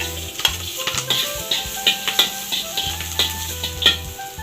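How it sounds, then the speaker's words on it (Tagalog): Chopped onions sauté in a hot pan with a constant sizzle. Rhythmic scrapes and clinks of a utensil stirring against the pan repeat about twice a second, up close and without talk. "Gisayin na natin. Unahin natin itong sibuyas."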